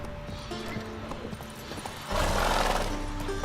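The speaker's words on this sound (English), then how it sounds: "Gotta calm all the horses before they leave the guards." Horse hooves clip-clop steadily alongside a horse's neigh in the video game The Witcher 3: Wild Hunt, then a louder, denser wash of stable noise and movement swells in over a low hum.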